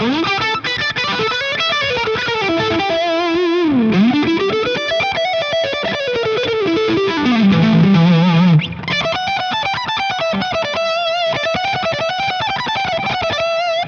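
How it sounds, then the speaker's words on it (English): Electric guitar through a Friedman IR-X plays a distorted melodic line with echoing delay repeats trailing each note, continuous and fairly loud with no voices. "And some delay."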